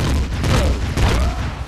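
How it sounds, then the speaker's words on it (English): Turret gunfire in the Empyrion survival video game, a loud close burst of heavy booming shots in quick succession, repeating twice within a moment, with no talking. "that turret's going to be shooting at us the entire time"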